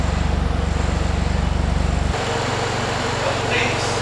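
A Toyota Supra engine idles close by with a steady, even low pulsing for about two seconds, then the rhythm drops to a softer, rougher rumble while faint background noise continues.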